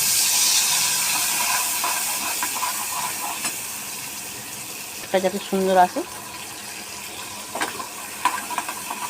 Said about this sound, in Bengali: মশলাটাকে আমি ভালো করে কষিয়ে নিই